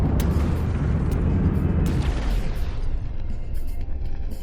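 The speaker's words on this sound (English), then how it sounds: "The ship does survive the whole ammo compartment exploding, and it does fall in the drink though." Within the naval combat game From the Depths, a ship's ammunition compartment blows up in a long, loud, rumbling blast with crackling secondary bangs that gradually fade into lighter debris and mechanical noise.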